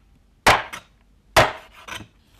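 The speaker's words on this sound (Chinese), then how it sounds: "用砍刀剁成截段" A heavy cleaver hacks black goat ribs into sections, two loud, close chops each followed by a quick smaller knock, with quiet pauses between them.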